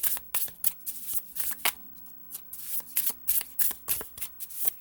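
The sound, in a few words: shuffling oracle cards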